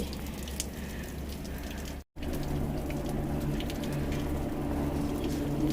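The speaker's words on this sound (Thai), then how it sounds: "ทุกคนดูน้ำตกหยดลงมาสิ" Water trickles and drips down a rocky cliff face at a waterfall on a mountain climb, a steady close splashing wash with faint drip taps and a brief dropout midway.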